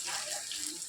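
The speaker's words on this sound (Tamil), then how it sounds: "நம்ம வந்து தேவைக்கேற்ப தண்ணியை ஊற்றினா போதும்." Water is poured into onion chutney, a brief, soft splashing trickle heard alone for under a second.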